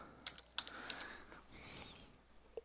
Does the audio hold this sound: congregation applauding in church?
no